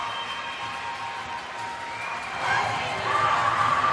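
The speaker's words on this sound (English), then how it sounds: "And the crowd cheering." Spectators at a 2024 women's box lacrosse gold medal game between Canada and the USA cheer and clap in a continuous wash of crowd noise that swells louder over the last second and a half, with shouts rising above it.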